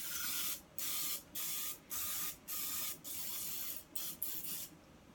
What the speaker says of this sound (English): we're going to use the kitchen spritzer